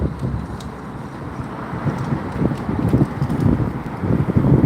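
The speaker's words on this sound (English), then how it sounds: "Sorry, it's a bit windy." Gusty wind buffets a microphone outdoors, producing a continuous low rumble and rough thumping that swells and fades, with no voices.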